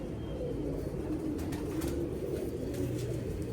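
Champion flying pigeons cooing softly at close range, low repeated throaty coos over a steady background hum, with no voices.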